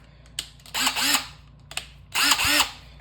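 Bauer 20V compact 1/4-inch hex impact driver given two short test runs, each a brief whirring burst about half a second long, close and fairly loud, with quiet pauses around them.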